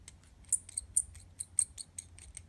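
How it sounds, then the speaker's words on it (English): Thin, high metal-on-metal squeaks from unscrewing the barrel off the section of a Karas Kustoms fountain pen, about a dozen short, close chirps in an uneven rhythm over a quiet background. "to unscrew the barrel from the section to sort of get to the converter is just awful. That metal on metal sound"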